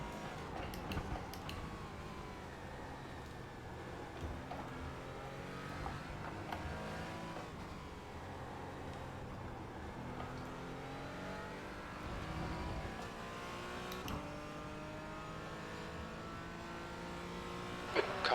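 Simulated race car engine in iRacing at Sebring, a car with power loss and damage, revving and shifting through gears in rising and falling whines, fairly faint and continuous.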